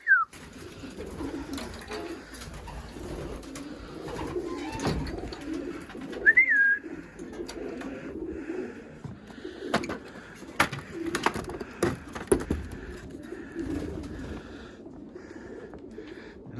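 Racing pigeons coo in low, soft repeated calls around a loft, with scattered clicks, taps and shuffling noises nearby and one brief higher chirp partway through.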